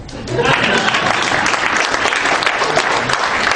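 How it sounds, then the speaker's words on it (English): A large crowd at a conservative political conference breaks into loud, dense applause that swells within the first half second and holds steady. "You can applaud them."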